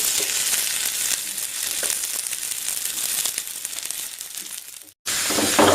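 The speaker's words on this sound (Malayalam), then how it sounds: "ഉള്ളി മൂപ്പിക്കാനിട്ട് കേട്ടോ." Onions fry with mustard seeds in hot coconut oil, a steady bright sizzle and hiss with faint crackles, cutting out briefly before resuming loud and close.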